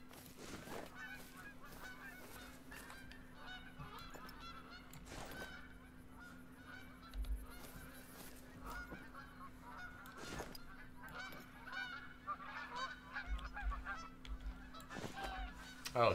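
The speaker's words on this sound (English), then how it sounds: "Oh, it's a Canadian goose." A Canada goose honking in a hunting game, faint distant calls repeating through a quiet outdoor ambience with occasional sharper knocks, no talk.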